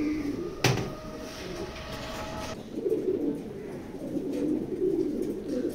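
Racing pigeons coo in a loft, a low continuous murmur of several birds close by, with a brief clatter near the start.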